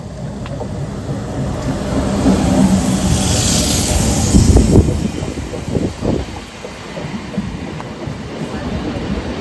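A train rumbles past nearby with a heavy, continuous low roar and rattling wheels that swell in the middle and then ease off.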